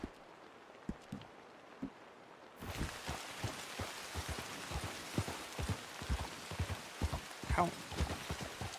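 Steady rain falls in the video game Red Dead Redemption 2, beginning abruptly after a quieter stretch with a few sparse knocks, then holding as a dense, close hiss with scattered sharp patters.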